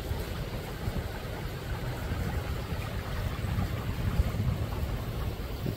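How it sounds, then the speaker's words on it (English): Flood water in Suwanee Creek rushes steadily and loudly, a constant churning roar with low rumble and some wind buffeting, no voices. "let's try and give you guys an idea of how fast this water is flowing"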